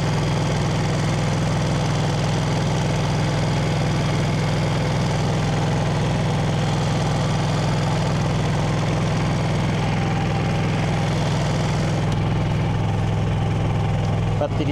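A long-haul truck's engine runs at a steady idle in Springfield, Missouri, a loud continuous low rumble with a constant drone and faint mechanical clatter throughout.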